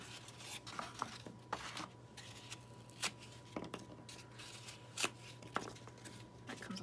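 A cardboard egg carton is torn up by hand, giving soft irregular ripping and crackling bursts at close range over a steady low hum.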